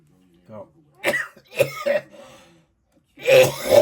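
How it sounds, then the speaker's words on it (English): Several harsh, raspy coughs close to the mic, coming in uneven bursts with short pauses between them. "I'm coughing badly."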